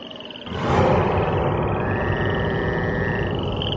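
Frogs croak in a steady, dense chorus, a continuous rhythmic chatter that swells after a quiet start and stays moderately loud throughout, with no voices over it.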